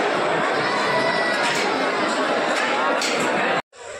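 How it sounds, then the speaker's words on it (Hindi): A dense crowd fills the darshan queue at Trimbakeshwar temple with loud, continuous chatter and children shouting close by, then cuts off abruptly near the end. "बहुत भीड़ है भाई, बहुत ज़्यादा।"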